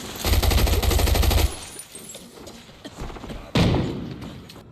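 Gunfire in the shooter game Arena Breakout: a loud rapid automatic burst at the start, scattered shots and thuds after, then another heavy volley near the end, close and dominant.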